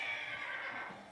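A voice imitating a horse neighing during a children's lesson on domestic and wild animals, a sustained whinny-like cry held for about a second and tapering off at the end.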